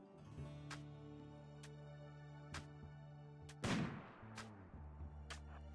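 Sparse gunshots in a RimWorld colony fight, single sharp reports spaced a second or so apart over quiet background music, with one heavier burst near the middle.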